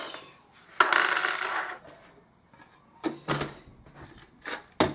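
Small metal fortune-telling charms tossed onto a surface during a tarot-style reading, giving a bright clattering burst followed by a few shorter rattling impacts near the end, close and fairly loud in a quiet room.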